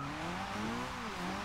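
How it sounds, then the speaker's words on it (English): Wheel spin from a Mazda MX5 Miata in Forza Horizon 2, tyres squealing over a steady engine drone as the car pulls away, fairly quiet and smooth for a short stretch. "there's a lot of wheel spin then pulling away"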